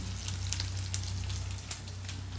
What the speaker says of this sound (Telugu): చూసారా ఎంత మంచిగా ఫ్రై అవుతుంది